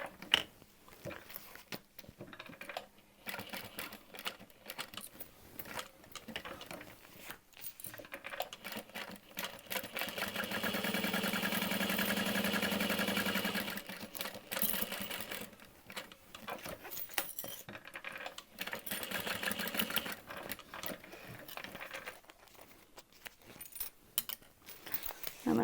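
A sewing machine top stitching a handbag, a steady rapid mechanical chatter in repeated runs, with one longer continuous stretch in the middle, close and moderately quiet, with pauses between passes.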